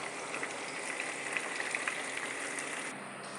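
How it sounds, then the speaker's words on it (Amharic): Chicken pieces frying in a pan for biryani, a continuous even sizzle with scattered small pops and crackles, close and steady throughout, no voices. "እዚህ ዶሮውን እየጠበስኩ ነው።"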